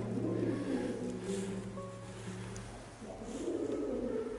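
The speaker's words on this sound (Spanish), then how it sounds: "el lugar está repleto de palomas. Y estas hacen ruidos que lo desconciertan." Pigeons coo softly in an old church, a low murmuring warble repeating over a steady background hum with no talking.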